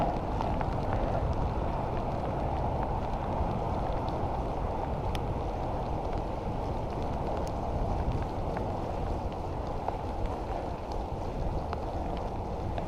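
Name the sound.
rain falling during a motorcycle ride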